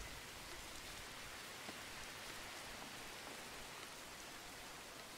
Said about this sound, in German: So, es regnet mal wieder.